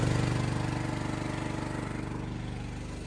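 A generator engine running hard under heavy electrical load, a steady close drone with a fast regular pulsing throb that holds throughout without voices.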